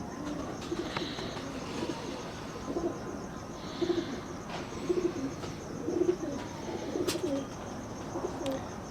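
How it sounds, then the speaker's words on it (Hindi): A pigeon coos repeatedly in soft, rhythmic phrases close by, with the calls recurring every second or so over a steady background hiss and no talking. "माशाल्लाह बड़ा मजबूत कबूतर दिखा रहे हैं जी आप"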